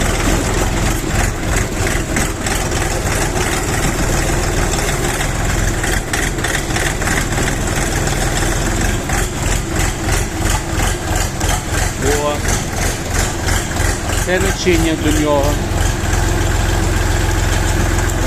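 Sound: mini tractor engine idling

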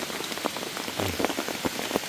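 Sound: rain falling in mountain forest

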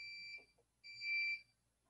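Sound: G-Fence 600z module beeping

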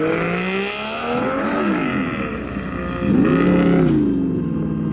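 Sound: drift car rolling out at a car show in Texas

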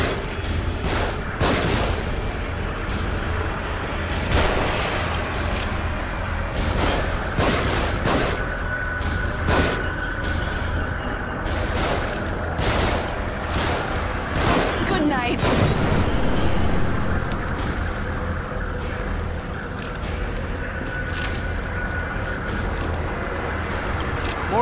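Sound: gunfire from above in the video game The Evil Within

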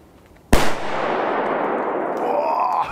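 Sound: Hua Liang firecracker exploding while standing upright

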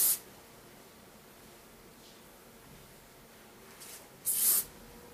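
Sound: hairspray being sprayed on hair

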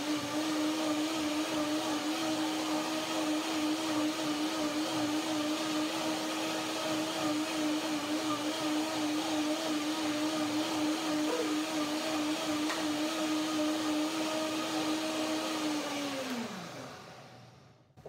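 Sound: blender running

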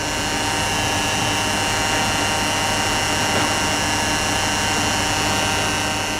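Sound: diesel fuel pump running with filter fitted

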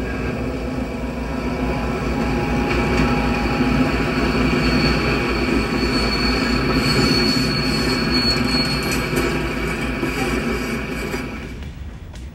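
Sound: passenger train led by EMD E7A locomotive

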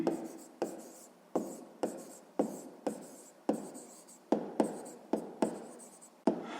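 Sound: writing with a pen on paper

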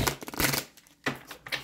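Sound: shuffling tarot cards

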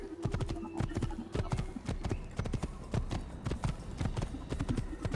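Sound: horse galloping in the video game Assassin's Creed

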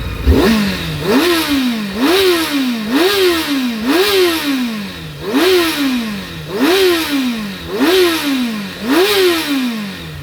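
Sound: Honda CBR 600 F4i motorcycle engine running and revving

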